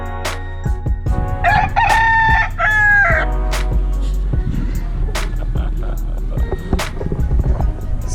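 A rooster crows loudly nearby, a long strained call in the middle of the stretch, followed by clucking, scuffling and outdoor background noise.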